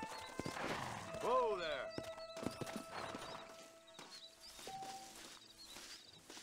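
Horse in Red Dead Redemption clip-clopping along and slowing to a stop, hooves thudding in an uneven rhythm with a neigh near the start, while someone talks quietly over it.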